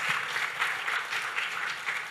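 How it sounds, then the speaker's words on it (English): An audience at a mental health forum claps for the panelists, a steady, moderately loud patter of many hands filling the room without a break. "A round of applause for my panelists."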